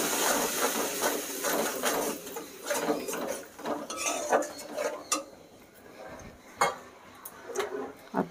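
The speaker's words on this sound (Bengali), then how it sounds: "সামান্য জল দিয়ে মশলাটা ভালো করে কষে নেব।" Spice paste with salt and a little water being stirred and fried in a pan for achari begun, eggplant in pickle spices, with repeated scraping and clinking of a spoon against metal over a soft sizzle, steady and close.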